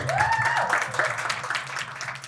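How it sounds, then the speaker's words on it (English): A crowd claps at a live podcast event at a festival, a brief burst of applause that starts under a speaking voice and fades quickly. "I'm gonna clap to that."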